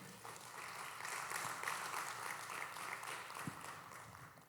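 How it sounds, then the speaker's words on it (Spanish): A church congregation applauds the Lord during a Spanish-language sermon on the resurrection, a steady, faint wash of many hands clapping that lasts throughout. "Dele un aplauso al Señor"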